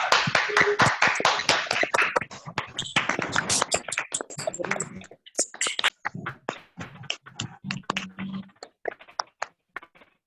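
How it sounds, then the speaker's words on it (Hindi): Audience clapping welcomes an 11-year-old girl to the stage at a Punjabi motivational event. The claps start dense and loud, then thin into scattered, uneven claps that die away toward the end, with no talk over them. "तो जोरदार तालियों के साथ हम उनका वेलकम करते हैं"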